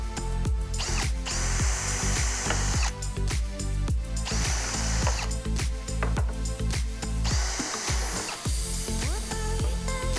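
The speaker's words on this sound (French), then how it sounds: "vous pouvez ensuite forer la partie marquée afin de visser la latte au MDF" A power drill bores through a wooden slat into MDF while building a folding workbench, a loud close whine that revs and stops in repeated bursts, with brief pauses between pulls, no talk.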